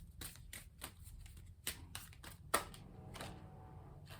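Playing cards are shuffled in a quiet room: a string of soft, crisp riffles and flicks, each short burst separated by pauses, with one sharper slap partway through.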